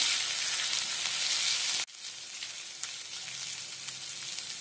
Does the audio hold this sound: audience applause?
no